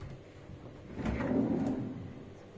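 A soft-close drawer under a built-in desk in a residence hall room glides shut with a muffled rising rumble that settles gently, no slam, in a quiet room.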